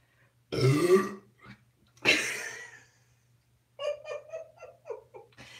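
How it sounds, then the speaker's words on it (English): A person burps loudly twice in a live chat setting, followed by a run of short giggles and laughter, fairly close and clear against a quiet background. "That was like an over burp, like it didn't, it came from a higher register."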